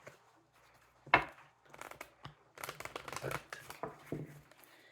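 Tarot cards being shuffled close up, a sharp riffle followed by a run of rapid papery flicks and rustles.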